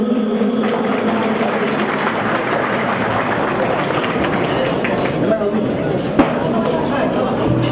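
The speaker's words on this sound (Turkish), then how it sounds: "Kuvvetli bir alkış istiyoruz" An audience at a celebration claps steadily and densely for the whole stretch, a loud, even wash of applause with no pauses.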